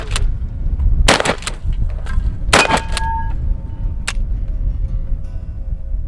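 A Marlin Model 42 12 gauge pump shotgun fires at cans outdoors: two loud, sharp blasts spaced about a second and a half apart, followed by a lighter crack and some metallic clatter and rustling, with no talking.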